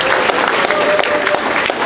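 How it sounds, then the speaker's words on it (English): Steady applause from an audience at a Pinoy Idol singing competition, dense clapping that carries on throughout at an even level. "Let's give a round of applause to our five judges."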